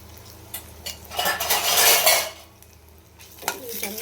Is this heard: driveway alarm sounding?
no